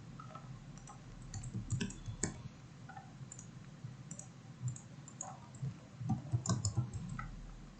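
Computer mouse buttons clicking during a programming exercise, a scattering of small, sharp clicks spread across the stretch, some in quick pairs, close and fairly soft over a low room hum.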